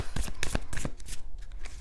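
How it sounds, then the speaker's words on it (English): Tarot cards are shuffled close up during a pick-a-card reading, giving quick, crisp riffling bursts and soft slaps of the deck in an uneven rhythm. "even when I'm shuffling the cards"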